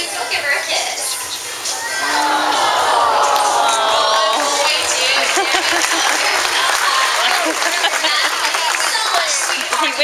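Spectators at a sea lion and dolphin show at Gulf World in Panama City Beach, Florida break into sustained applause, dense clapping from a sizable crowd swelling after a couple of seconds with some cheering mixed in.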